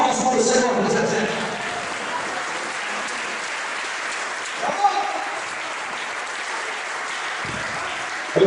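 A church congregation applauds together, a dense, steady wash of clapping that fills the space, loudest at the start and then holding evenly throughout.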